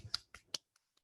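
A few sharp claps or snaps in a short rhythmic pattern demonstrating how a class claps after each presenter, three clear hits followed by two faint ones, close and quiet.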